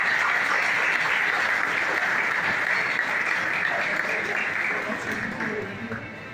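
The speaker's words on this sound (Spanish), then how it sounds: "fuerte los aplausos" A crowd at a rally awards ceremony breaks into loud, sustained applause that fills the whole stretch, dense and even, easing slightly toward the end with faint voices mixed in.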